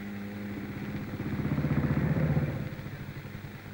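A 1950s coil-ignition motorcycle engine is kicked into life and runs with a rapid mechanical clatter that swells in the middle, then settles into a lower idle, heard alone at moderate distance.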